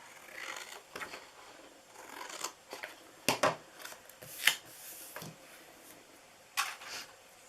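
Scissors snipping through paper while a snowman Christmas treat box is made, a few short crisp cuts spaced irregularly and fairly close, with soft handling rustles between them.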